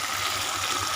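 A liquid celery mixture is poured into a pan while cooking chilli soya chunks, giving a steady, continuous watery rush with no talking.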